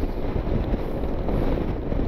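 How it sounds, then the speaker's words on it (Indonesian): Strong crosswind buffets the microphone during a motorcycle tour on an All New NMAX along the road from Bengkulu to Mukomuko, producing a continuous low, rushing roar. "Makanya angin dari sebelah kiri saya ini kencang banget"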